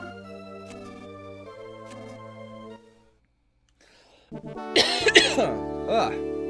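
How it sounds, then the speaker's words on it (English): A few sharp, close coughs and throat-clearing sounds come right into a microphone after a stretch of droning music and a brief silence. "Don't like coughing into the microphone"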